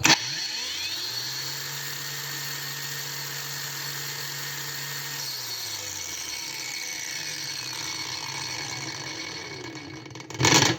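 A MELLIF AG-DW20 cordless three-speed angle grinder whines steadily at high speed, close by, its tone rising as it spins up and easing as it winds down, ending in a short clatter.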